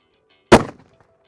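Single long-range precision rifle shot fired on a shooting range, one sharp, loud crack with a brief fading tail, standing alone against near silence.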